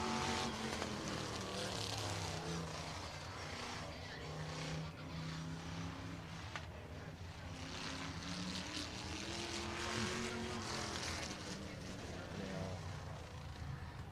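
Race cars lapping a short oval at F8 Showtime Speedway in Pinellas Park, Florida, engines droning steadily and blending as they circle at moderate distance, with faint crowd or announcer voices underneath.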